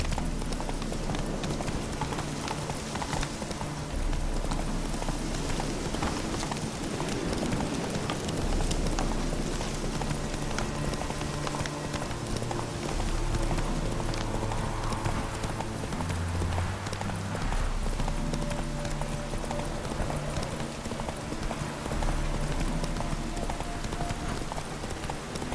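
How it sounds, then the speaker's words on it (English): A horse gallops in The Witcher 3 video game, its hooves clip-clopping in a steady, continuous rhythm under an ambient game soundscape, with no talking. "Whoa there, Roach."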